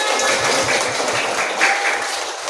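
A short burst of clapping from a class of students, steady and moderately loud, with scattered hand taps filling the room.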